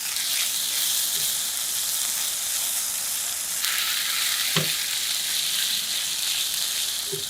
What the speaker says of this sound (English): Saute sambal in a hot oil until fragrant.